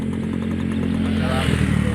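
A motorcycle engine hums close by on a rural road, its steady mid-pitched drone building slightly toward the end of a brief moment, with someone talking over it.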